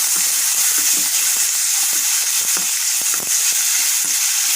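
Chopped ajwain (carom) leaves fry in a pan over a medium flame, producing a loud, continuous sizzling hiss with scattered crackles and pops throughout.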